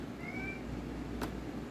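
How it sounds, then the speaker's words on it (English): A faint, short meow from a cat rises once against a low steady room hum, followed by a brief soft click. "That's my cat."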